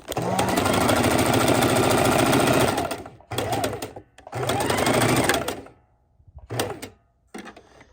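A sewing machine stitches raw edge appliqué in loud, close bursts: a long continuous run, then several shorter runs broken by brief stops.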